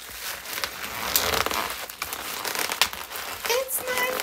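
Plastic packaging on a cardboard art tube being slashed and torn open, with crinkling and crackling bursts, a few sharp rips, and a loud near tearing toward the end.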